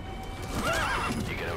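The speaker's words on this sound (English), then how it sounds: "Come on, horsey." Horse in the video game Metal Gear Solid V neighs loudly with a rising, wavering whinny over a dense background of game noise and hoofbeats.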